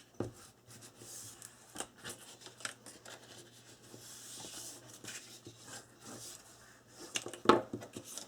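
Twelve-inch paper strips are folded close by: quiet, scattered crinkles and sharp creasing snaps, with a louder crisp crease near the end.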